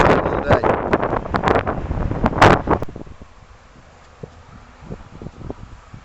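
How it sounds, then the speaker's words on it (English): Strong wind buffets the microphone at a winter wild camp, roaring in loud gusts for about three seconds before easing to a lower rush with scattered small knocks. "Well, it is a bit windy"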